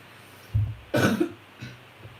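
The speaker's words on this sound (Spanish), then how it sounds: "Ay, tengo una tos tremenda" A woman with a bad cough coughs a few times in a short, close burst, one sharp harsher cough followed by a softer, weaker one.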